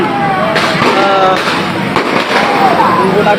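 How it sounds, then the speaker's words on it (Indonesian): Loud, repeated firecracker pops crackle in an irregular series amid crowd noise at a clashing street demonstration in Makassar, while a voice talks over the commotion. "ini petasan begitu untuk menyerang kelompok warga"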